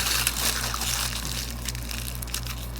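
Aluminum foil crunched and squeezed by hand into a ball, irregular crinkling and crackling bursts over a steady low electrical hum, close and fairly loud, with no talking.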